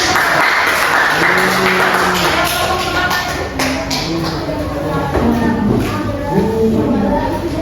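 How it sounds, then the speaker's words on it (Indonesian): Students in a classroom clap in a steady, close patter of hands, with murmuring voices and shuffling mixed under the applause. "kalau mau satu tepuk tangan dulu"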